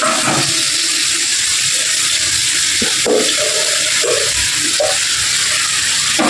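Mango pieces tipped into hot oil with sizzling mustard seeds and asafoetida, a continuous loud frying hiss with occasional stirring clatter and spattering pops.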